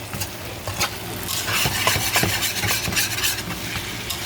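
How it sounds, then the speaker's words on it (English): Lo mein noodles with duck are stirred and tossed in a hot pan, producing a continuous close sizzle with repeated rhythmic scraping and clatter from the utensil that grows busier toward the end. "we're just bringing this all up to temperature, mixing all the stuff in there"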